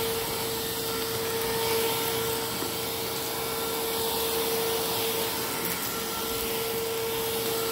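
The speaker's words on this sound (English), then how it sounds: "This is a really good cordless stick vacuum." A cordless stick vacuum runs steadily in a living room, a constant close whine with a sustained hum and no pauses throughout.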